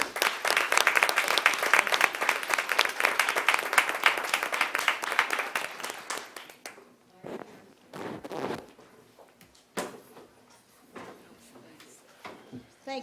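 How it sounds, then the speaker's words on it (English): Audience applause at a Detroit police commissioners meeting honoring a teacher: dense clapping for about six seconds, then fading into scattered claps, shuffling and movement as people settle. "let's stand up and give her a round of applause"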